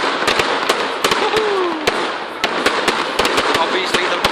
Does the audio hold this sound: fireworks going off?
yes